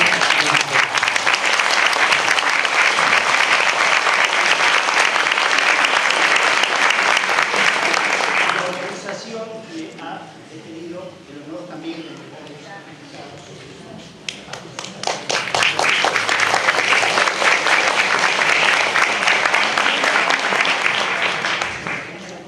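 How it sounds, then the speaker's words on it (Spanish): A conference audience applauds loudly at a closing lecture on evidence in family law proceedings. The steady dense clapping fades into a quieter lull with scattered claps, then swells back to full strength. "propongo un gran aplauso."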